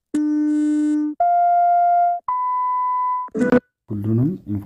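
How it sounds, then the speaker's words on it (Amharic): A smartphone speaker test plays three steady electronic tones one after another, each lasting about a second and each higher in pitch than the last, loud and clean, followed by a person speaking. "ስፒከር ላይ ክሊክ ስታደርጉት ስፒከሩ ድምጽ ያሰማል ማለት ነው"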